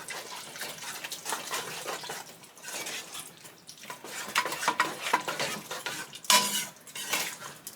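A spoon stirs a thick tuna and noodle mixture in a pot, giving soft, squelchy scraping and occasional metallic clinks in an uneven rhythm, close and fairly quiet.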